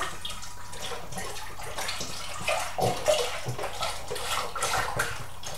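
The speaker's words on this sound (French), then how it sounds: "on va verser le lait dans une casserole." Whole milk poured into a saucepan, a steady close splashing liquid stream that goes on throughout at moderate loudness.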